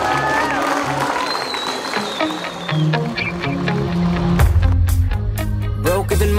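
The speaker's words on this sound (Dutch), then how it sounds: "Geef een applaus, Rob Hartog." Applause and crowd noise from an audience at a Superstock 600 motorcycle racing award, with music and a voice over it; the clapping swells toward the end.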